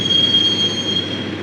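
A train from the video game Max Payne rolls along the rails, its wheels squealing in a steady high metallic whine over a continuous low rumble, loud and close throughout.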